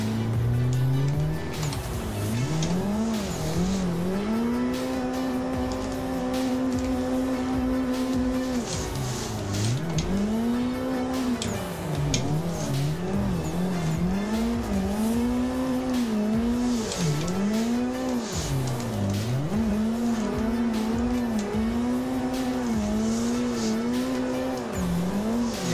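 A street car drifts in the Assetto Corsa racing game, its engine revving in rising and falling sweeps while tires squeal in repeated long skids, loud and continuous with no talking.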